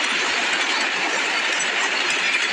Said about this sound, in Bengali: ট্রেনটা প্রতাপপুর স্টেশনে এসে দাঁড়ায়।